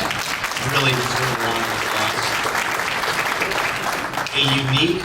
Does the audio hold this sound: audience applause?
yes